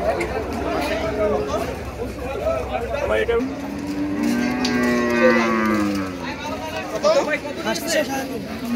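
Cattle at Hazratpur cow market in Keraniganj, Dhaka: a cow gives a long, loud, drawn-out moo close by, over a busy crowd murmur with people talking throughout.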